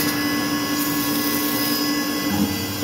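Langmuir Systems MR-1 CNC machine thread milling without coolant, a loud, steady, whirring spindle and cutting drone with a high whine, continuous and close throughout with no talking.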